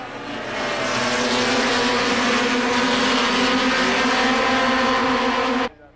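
A pack of race cars roaring off together at the start of a 1990 SCCA National Championship race, a steady loud engine drone holding for several seconds before cutting off abruptly.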